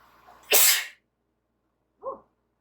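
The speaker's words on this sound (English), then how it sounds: "I gotta sneeze" One loud, explosive sneeze up close after a short breathy intake, followed by a brief quiet vocal sound.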